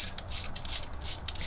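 Ratchet wrench tightening bolts during an LS2 engine build, giving a loud, close, rhythmic metallic clicking in several bursts of repeated strokes with short pauses between them.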